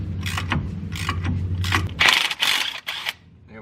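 A breaker bar works a ball joint bolt on a PT Cruiser's suspension, giving several close metallic ratcheting and scraping clicks in short bursts, over a low hum.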